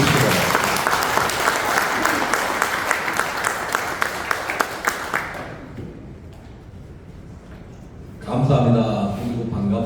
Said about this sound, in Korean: 뜨거운 박수로 다시 한번 환영해 주시기 바랍니다